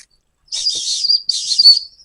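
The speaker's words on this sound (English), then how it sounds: "So all you need to do is just whistle." A small whistle on a survival necklace gives two shrill, piercing blasts close by, each lasting roughly three quarters of a second with a brief gap between, and the second tails off into a faint trailing tone.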